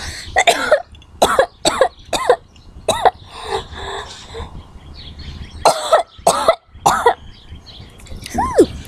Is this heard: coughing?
yes